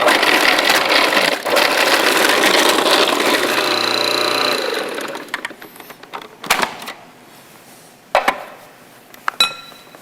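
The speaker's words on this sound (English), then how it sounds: "we're going to grind them up with the S blade in the food processor" A food processor with an S blade grinds plums, a loud, dense, steady whir for about five seconds, then it stops and scattered clinks and clacks of the bowl and lid follow.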